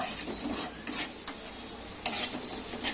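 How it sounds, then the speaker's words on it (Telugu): Ginger garlic paste fries in a pan on low heat, a soft steady sizzle under intermittent scraping strokes of a spoon stirring it, close and fairly quiet with no talking. "అల్లం వెల్లుల్లి పేస్ట్ పచ్చివాసన పోయేదాకా వేపుకోవాలండి"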